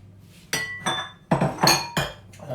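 Several sharp clinks ring out as sugars and flour are added to a mixing bowl for cupcakes, about six ringing knocks of utensil against bowl with short decays and no talking.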